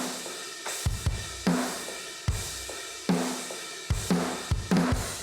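Heavy metal drums pound hard and punchy through an automated crush effect and Devil Lock distortion, with loud, saturated hits recurring in a driving rhythm and no voices.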